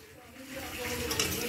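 Bay leaves and cloves fry in hot mustard oil in a pot while chicken kosha is cooked, giving a steady close sizzle with some stirring that grows a little louder toward the end.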